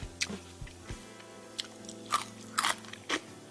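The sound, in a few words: biting and crunching crispy fried tofu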